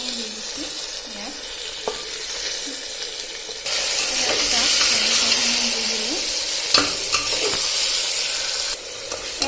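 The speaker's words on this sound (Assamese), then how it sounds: "মই মাংসখিনি দিয়াৰ পাছত এনেকৈ লৰাই অলপ সময় ভাজি থাকিম" Mutton fries with spice masala in a pan while being stirred, a steady sizzle that jumps louder partway through, with spoon scrapes and clinks throughout and faint voices early on.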